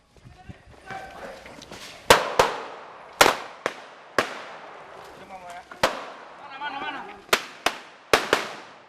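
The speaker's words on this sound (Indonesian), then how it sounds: "Polisi melepaskan tembakan peringatan" Sharp warning gunshots from police go off in an irregular series outdoors at a surrounded house in Mesuji, Lampung, Indonesia, some in quick pairs, over background voices and commotion.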